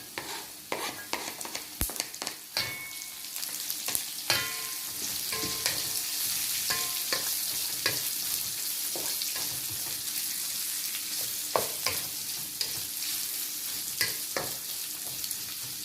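Chopped carrot frying with crisp anchovies and onion in a pan, a continuous sizzle dotted with frequent spoon scrapes and clinks as it is stirred, close-up with no voices.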